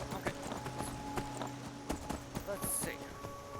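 Quiet clip-clop of horse hooves in a video game, a loose rhythmic patter of steps with a faint whinny-like tone, under a steady game background hum and light chatter.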